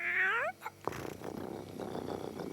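A cartoon cat lets out a short rising-and-falling meow, then a soft chirp, then a rough, raspy purring growl that runs on steadily at moderate volume.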